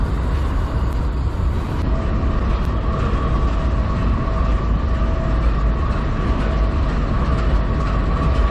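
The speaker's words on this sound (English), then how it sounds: "it was a little fun to race this inbound Metra train as we were backing towards our spot." Metra commuter train running alongside at Chicago Union Station, a steady, loud rail rumble with a continuous grinding roar and faint clatter, unbroken throughout with no talk.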